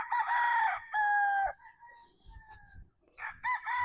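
Farm chickens cluck and crow near and loud in short bursts, with a rooster call standing out, and faint rustling and low knocks between the calls.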